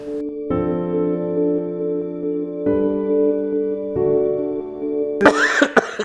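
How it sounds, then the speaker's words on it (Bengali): A man coughs and clears his throat in a prolonged coughing bout with flu, a few harsh bursts near the end following a steady sustained tone earlier. "এই যে আমি কাশছি তো এই কাশিটা আমাকে বেশ ভাবিয়েছে"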